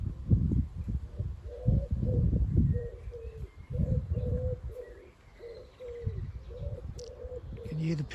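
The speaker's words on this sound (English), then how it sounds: "You can hear the pigeons, wood pigeons." Wood pigeons coo in a sunny Suffolk garden in June, soft, rhythmic repeated phrases of low, hollow notes at moderate distance, over a faint outdoor rumble.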